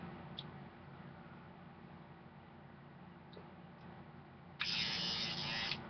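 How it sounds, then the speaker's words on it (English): A man's electric toothbrush buzzes for about a second after a quiet stretch. The steady, close motor whir starts and stops abruptly, alone over faint room hiss. "It has to be electric because I'm lazy like that."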